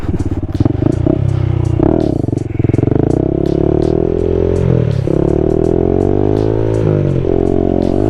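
A Honda Grom motorcycle is ridden through a wheelie, its small engine loud and close, revving and bogging in uneven bursts, with the pitch climbing and dropping and a rattle of mechanical clatter throughout.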